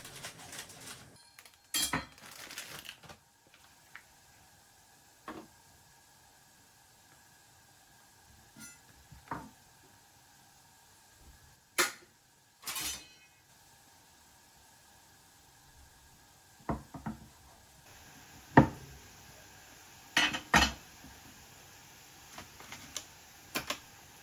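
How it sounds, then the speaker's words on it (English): Wonton wrappers are cut into small pieces and tomatoes are diced on a cutting board, giving sparse, sharp knife taps and clicks with long quiet gaps between them. "I cut the wonton wrappers into small pieces and diced the tomatoes"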